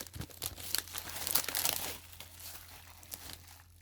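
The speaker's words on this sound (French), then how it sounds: "Le papier bulle, ça dégage." Bubble wrap crinkled and pulled away from a packaged parcel, quiet crackling and rustling in several bursts, busiest in the first two seconds and then fading to occasional soft crinkles, close up with no voices.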